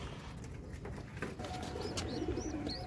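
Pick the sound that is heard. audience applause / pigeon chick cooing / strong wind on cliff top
pigeon chick cooing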